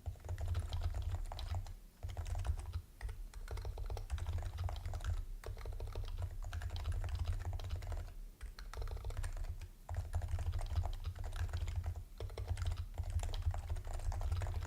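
Computer keyboard typed on continuously in a quiet room, a steady stream of close, soft key clicks with brief pauses over a constant low hum.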